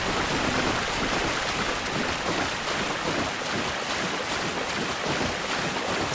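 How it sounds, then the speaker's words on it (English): Water splashing and churning in the Dark Souls video game, a continuous broad rushing wash like surf with no distinct individual splashes standing out, steady in loudness and free of speech. "The splash effect is very nice. It's little details that really make it feel more like water."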